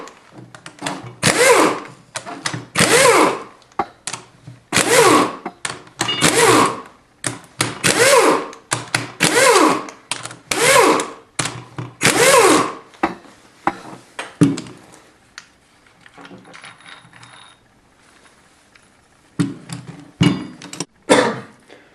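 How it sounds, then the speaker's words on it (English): Ratchet wrench loosening 10mm bolts on a Honda D16Y8 VTEC engine during a rebuild, rapid bursts of ratcheting clicks in repeated strokes, close and loud, fading to sparse clinks near the end. "So we've just loosened these 4 10mm bolts."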